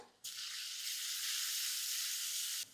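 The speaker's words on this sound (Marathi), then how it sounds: "तेल गरम झालं यामध्ये घालूया पाव चमचा हिंग लसूण मिरचीचा ठेचा याला परतूया" Asafoetida and crushed garlic-chili paste hit hot oil with an abrupt, loud hiss that holds steady for over two seconds, then cuts off sharply; no voices are heard.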